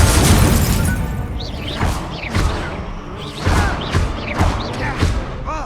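Incendio fire spells are cast in Hogwarts Legacy, a rapid series of whooshing bursts and booming thuds repeating about once a second, loud and close.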